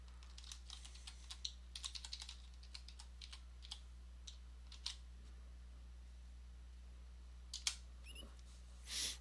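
A computer keyboard clicks softly as a password is typed: a quick cluster of close keystrokes, then a few scattered presses and a final click, faint against a low hum.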